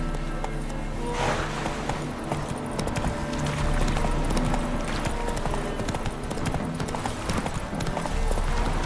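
Hooves clip-clop steadily as a horse gallops in the video game Witcher 3, a continuous rhythmic beat with game ambience and no talk.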